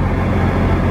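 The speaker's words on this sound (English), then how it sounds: "So the generator is going right now to power everything up." Generator on a Tiffin Allegro Class A motorhome runs at an RV show, giving a steady, loud, continuous engine drone with no change in level.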